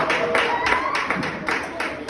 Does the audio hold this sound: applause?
yes